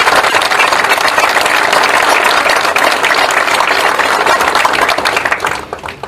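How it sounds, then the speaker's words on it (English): A graduation audience applauds students in a dense, loud, continuous wash of many hands clapping that fades toward the end. "please give these students a round of applause"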